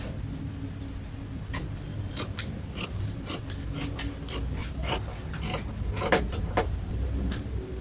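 Scissors snip through dress fabric along a marked curve, a steady series of short crisp cuts close by, spaced roughly half a second apart, over a low background hum with no talking.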